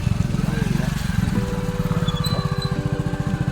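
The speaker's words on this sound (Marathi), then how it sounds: "आता इथपर्यंतच बाईक जाईल" A motorcycle is ridden along a rural village track near Rovale, Kelshi, in Dapoli, its engine chugging steadily and close for the whole stretch, with a rhythmic low throb and faint voices underneath.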